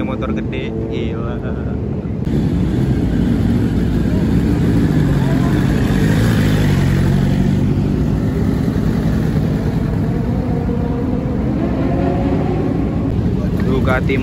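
A Ducati Monster motorcycle revs at a meet of big bikes, its loud, steady engine roar filling the clip while a person talks over it.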